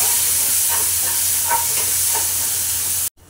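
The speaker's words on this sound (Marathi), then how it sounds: "आता यामध्ये कांदा घालूया आणि टोमॅटो घालून घेऊया आणि मिश्रण चांगलं एकजीव करून घेऊया" Onion and tomato are stirred and fried in a pan for a traditional Konkani black pea usal, giving a loud, steady sizzling hiss with faint spatula scrapes before the sound cuts off abruptly.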